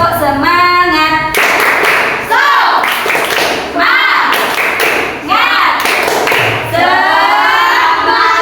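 A class of students claps a rhythmic cheer pattern in bursts, mixed with shouted chanting voices, loud and close.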